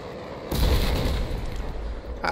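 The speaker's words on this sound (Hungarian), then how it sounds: "Hát Lala elrobbant" Explosion in the video game Battlefield 4: after a quiet half second a loud blast bursts in and rumbles for about a second, tailing into a low roar with a sharp crack near the end.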